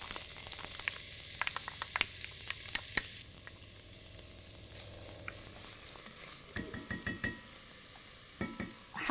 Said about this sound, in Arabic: هقلب البصل شوي